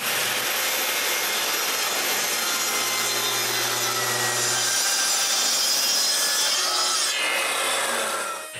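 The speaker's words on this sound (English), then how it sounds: "after bringing a full sheet of plywood onto my workbench, I rip away the left side" A power saw rips steadily through a full sheet of maple plywood on a workbench, a loud continuous whine and cutting rasp that holds for several seconds before tapering off at the end.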